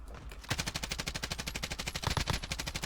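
Rapid automatic gunfire in Call of Duty Warzone, a dense steady burst of evenly spaced shots running nearly three seconds after a brief quiet start, loud and close with no talking.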